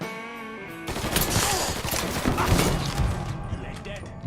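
Sustained enemy gunfire in the Mafia III game, a rapid, loud fusillade of automatic shots kicking in abruptly after a quieter opening and continuing as a dense barrage, with a voice shouting briefly amid the shooting.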